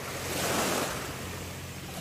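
Steady roar of sea waves washing in continuously at Balatero Port, broad and even, with wind rushing across the microphone and no voices.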